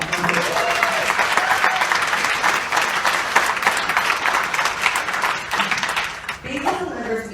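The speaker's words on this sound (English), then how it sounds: "That deserves a round of applause." Sustained audience applause at a volunteer recognition event, dense steady clapping from a full room that holds for about six seconds before tapering off, with some voices mixed in near the end.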